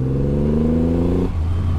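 A Triumph Rocket 3 motorcycle engine holds around 2,000 rpm, giving a loud, close, steady low rumble with a strong harmonic drone that shifts slightly in tone partway through.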